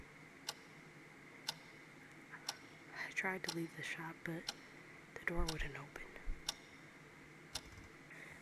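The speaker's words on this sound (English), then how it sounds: "The sound of the ticking clocks grew louder, like hundreds of tiny hearts beating in panic." Clock ticks sound at a steady pace of roughly one per second, sharp but quiet, as a soft voice reads a spooky Halloween story over them.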